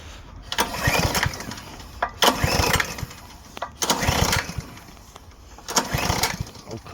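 Petrol lawn mower on choke, not used for a while, cranking repeatedly: four loud bursts of engine turning over that each die away after about a second, with short gaps between attempts and no spoken words.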